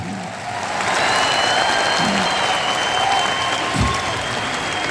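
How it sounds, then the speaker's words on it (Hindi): An audience at a large gathering claps continuously, with a dense, steady roar of hands and a faint voice in the background. "इस बात के लिए इतनी सी तालियां बहुत कम मानी जाएगी"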